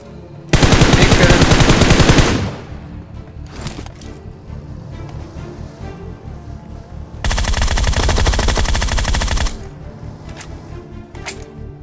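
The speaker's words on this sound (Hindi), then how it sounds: "यहाँ आते ही मुझे गोलियाँ चलने की आवाज आती है" Automatic gunfire in the battle royale game BGMI comes as two loud, rapid bursts, each lasting about two seconds, separated by quieter clatter and in-game movement sounds.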